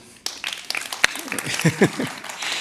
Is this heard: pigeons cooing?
no